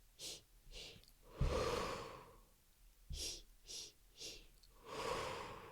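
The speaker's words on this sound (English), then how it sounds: "Just remember you're breathing in on the he's and you're breathing out on the who's." A woman practises rhythmic labour breathing, alternating short sharp inhales with longer drawn-out exhales in a steady pattern, close and fairly quiet with no talking.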